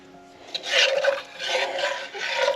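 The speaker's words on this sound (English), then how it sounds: "Look at me stirring all loud with that iron spoon" An iron spoon stirring and scraping inside a pot of chicken gravy, three close rasping strokes of gritty metal-on-metal scraping separated by brief pauses.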